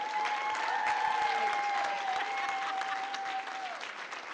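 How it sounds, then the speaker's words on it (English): Audience applause for breakout session leaders and panelists at an indoor panel event, steady dense clapping from a crowd that holds at full strength for about four seconds, with a faint sustained tone running underneath. "a round of applause to our breakout session leaders and panelists"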